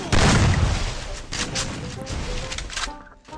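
Gunfire in the battle-royale game Free Fire, a dense run of loud booming shots and crashes in quick succession, close and heavy, with game sounds layered underneath.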